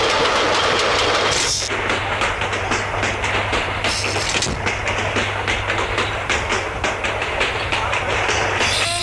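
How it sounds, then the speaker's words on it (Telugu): A train pulls out of a station with a steady rumble and rhythmic clickety-clack of wagons rolling past nearby. A constant low hum runs underneath, with brief louder clatters. "ట్రైన్ వెళ్ళిపోతుంది"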